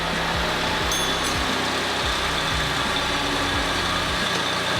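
A wrecked 2019 BMW M2 engine runs after starting, a loud, steady idle with a rough low rumble and periodic pulsing throbs, close to the car.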